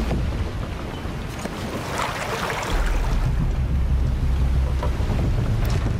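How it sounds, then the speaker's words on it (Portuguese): Water level rising in Shadow of the Tomb Raider, a steady rushing, churning wash of water that swells and deepens partway through and then holds as a constant low roar. "vamos subir o nível da água e ver o que acontece"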